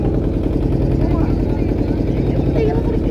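A small boat crosses a river through heavy waves, its engine droning loud and steady while wind and water rush past without a break.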